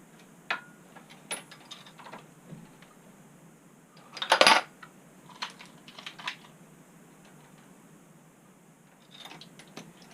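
A Dillon reloading press loading .30-06 ammunition for an M1 Garand clicks and clacks through its cycle: scattered sharp mechanical ticks and clunks, one louder rattling burst midway, close up and without any talk.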